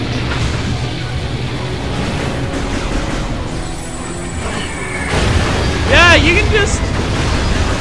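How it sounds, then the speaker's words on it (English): Gunship missile strikes in Metroid Prime 3: Corruption set off a rolling rumble of blasts that swells louder partway through, with game chimes and someone talking over it. "you can just summon gunship missiles to just blow up an area when you want"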